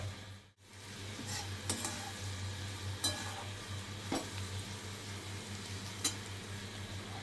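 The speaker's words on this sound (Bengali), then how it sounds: "পেঁয়াজ আর ক্যাপসিকাম হালকা ভাজা হয়ে এসছে" Onion and capsicum sizzle steadily in a pan while being cooked for chilli chicken, a constant close frying hiss broken by several sharp clinks and scrapes of a spatula stirring against the pan.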